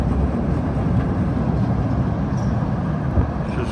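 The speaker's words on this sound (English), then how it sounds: "looks like a Brown Line train." A Chicago CTA Brown Line train at Armitage station, a steady broadband rumble and rail roar throughout without pause, fairly loud and close.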